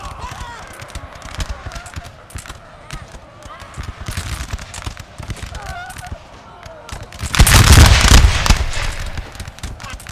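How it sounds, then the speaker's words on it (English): Musket volleys crack across a Napoleon Total War battlefield, scattered shots building to a loud, dense burst of massed fire near the end, with a commentator talking throughout. "Glorious volleys from the Danish."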